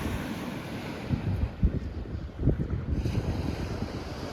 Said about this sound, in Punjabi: ਸਿਰਫ ਤੁਹਾਨੂੰ ਇੱਥੇ ਸਮੁੰਦਰ ਦੀ ਆਵਾਜ਼ਾਂ ਸੁਣਨ ਨੂੰ ਮਿਲਣਗੀਆਂ